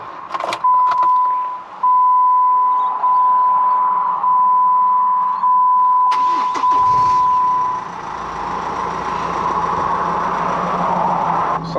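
Jeep Wrangler JK being started: a tone chimes steadily for several seconds with a few clicks, then the engine cranks and catches into a loud, even idle close by.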